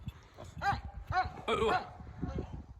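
A dog close by gives a rapid series of short, high yelps and whiny barks, several in a row.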